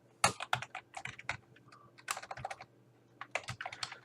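Keys clatter on a computer keyboard as code is typed in the Eclipse editor, quick irregular bursts of close, crisp clicks separated by brief pauses, no voices.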